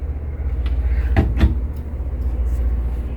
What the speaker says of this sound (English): We've got a tiny little drawer here that doesn't have anything in it, and a little cabinet here.